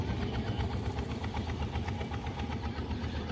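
A motorboat engine chugging on a river, a steady low throbbing drone with a regular pulse, fairly faint and continuous without talk.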